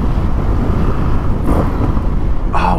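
A 2019 Indian FTR 1200 S motorcycle exhaust gives a steady, throaty rumble throughout, buffeted by wind noise as if recorded while riding, close and fairly loud.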